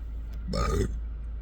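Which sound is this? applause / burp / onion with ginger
burp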